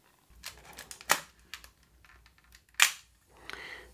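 A Nikon F3 SLR film camera fires its shutter and mirror, giving a few sharp mechanical clacks and smaller clicks close up in a quiet setting, with brief whirring between them.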